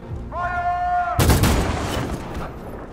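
A loud gunfire volley erupts in Detroit: Become Human, a dense crack of many shots following a short sustained tone, then decaying into a rumbling tail.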